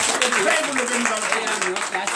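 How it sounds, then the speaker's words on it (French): A congregation at a morning prayer service in Benin claps and acclaims Jesus; fast, dense clapping with cheering and shouted voices running throughout, fairly loud. "Donnez l'acclamation à Jésus"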